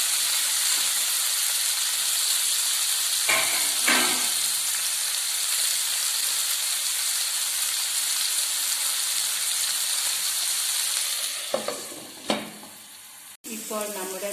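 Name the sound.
green beans with turmeric stir-frying in a pan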